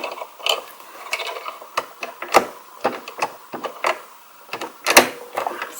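Presser foot on an overlock sewing machine being swapped, a close series of irregular metallic clicks, snaps and small clacks from handling the parts, with no talking.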